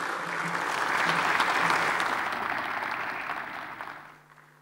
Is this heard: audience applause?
yes